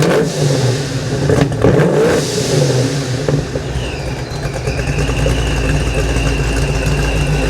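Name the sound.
supercharged 347 Foxbody engine revving with Holley Super Sniper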